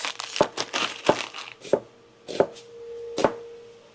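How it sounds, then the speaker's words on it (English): Onions being cut with a knife on a board in a home kitchen: a handful of crisp, evenly spaced chops with crunchy crinkling between them, close and clear, no talking. "While that's cooling, I'm going to cut up the onions"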